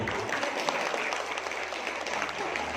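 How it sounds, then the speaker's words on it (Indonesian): Audience at a Fatayat NU inauguration in Moga district clapping together, a dense and steady burst of applause filling the short clip with a faint voice underneath. "Aplaus untuk kita semua Bapak Ibu"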